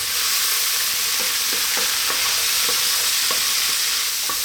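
Chickpea fried rice with curry powder stir-fries over lively heat, a dense continuous sizzle broken by regular scraping stirs of the spatula, close and loud with no one talking.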